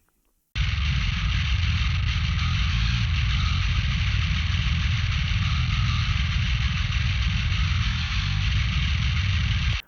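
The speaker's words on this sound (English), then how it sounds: "So this is how the bass sounds on its own." A solo metal bass guitar with a scooped, heavy tone plays a dense, sustained low rumble with a bright grinding edge, starting abruptly after a brief silence and holding a constant loud level to the end.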